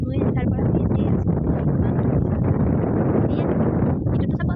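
Strong outdoor wind rushes steadily across the microphone, a loud, continuous roar with rumbling buffeting that never lets up for the whole stretch.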